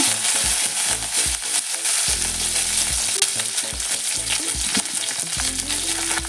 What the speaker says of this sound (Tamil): எண்ணெய் சூடானதும் கடுகு போட்டுக்கோங்க ஒரு கைப்பிடி அளவு கருவேப்பிலை